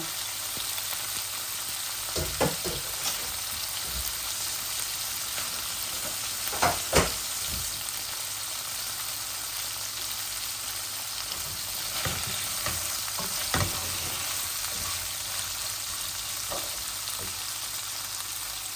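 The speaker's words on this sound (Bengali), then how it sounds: "শুটকি ভাজা হয়ে দিব, লগে রসুনও ভাজা হয়ে দিব" Dried fish and garlic fry in a pan, giving a steady close sizzle throughout with occasional sharper scraping strokes as it is stirred, no voices present.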